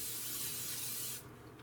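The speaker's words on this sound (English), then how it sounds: "we're going to spray this up before we put our meatloaf" Cooking spray hissing onto a baking dish before meatloaf goes in, one steady close spray burst lasting about a second before cutting off.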